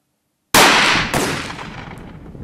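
A single loud shotgun blast from an ELOS Traqueur 12-gauge (12/76) fires near, followed by a second sharp crack about half a second later, both decaying into a ringing outdoor reverberation.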